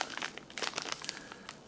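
A small plastic bag holding a scourer from an Australian 24-hour CR1M ration pack crinkles and crackles close up in short irregular bursts, with no voices.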